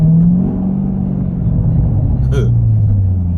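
A 2017 Chevrolet Corvette engine holds a loud, steady low rumble with rising and falling revs throughout, someone talking over it.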